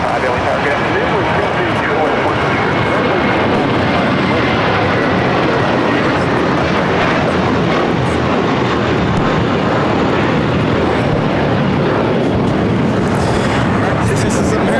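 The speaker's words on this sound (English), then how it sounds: "This is American Airlines Flight 274 taking off to JFK on the A321." An American Airlines A321 jet taking off at LAX: a loud, continuous engine roar that stays dense and steady throughout, with a brief higher whine near the end.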